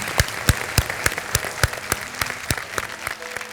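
Audience applause follows a startup pitch, with the clapping loud and close at first and then thinning into scattered, uneven claps.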